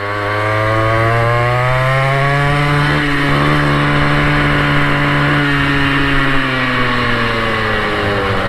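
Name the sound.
Goped GTR scooter motor running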